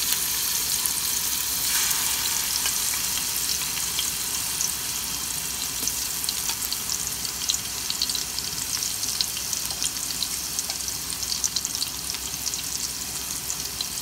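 Spices and ginger garlic paste fry in hot oil in a pan for bhuna khichuri, a steady, dense sizzle with crackling pops throughout, close and fairly loud with no talk.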